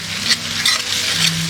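Ginger paste stirred into browned frying onions for a village-style chicken curry on a clay stove, giving a steady sizzle with soft scraping strokes of the spoon, close and continuous.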